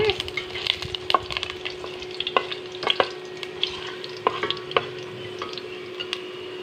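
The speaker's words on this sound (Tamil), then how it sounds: "வெந்தயத்தை மொதல் எண்ணெயில் நல்லா வறுத்துடணும் எண்ணெய் வெந்தயத்தை நல்லா பொரிய விட்டுட்டு" Fenugreek seeds fry in oil for a fish curry, giving a constant low sizzle with frequent sharp pops and stirring clicks spread irregularly throughout, alongside a faint steady hum.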